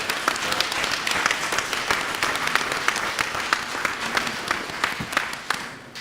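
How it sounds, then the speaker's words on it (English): A room at a village board of trustees meeting breaks into a sustained round of applause, dense clapping from many hands running steadily throughout with no talk over it. "So I think just one more round of applause."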